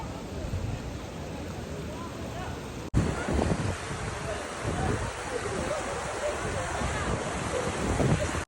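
A waterfall in Al Baha, Saudi Arabia, pours out a constant broadband rush of water with wind buffeting the microphone, briefly cut and then resuming louder.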